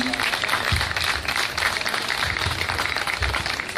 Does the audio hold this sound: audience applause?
yes